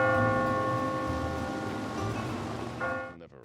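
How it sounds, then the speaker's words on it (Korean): A church bell tolls at midnight in a film scene, one sustained ringing strike with a long shimmering decay and a fresh strike near the end, heard alone. "그때 자정을 알리는 종소리가 울리는데"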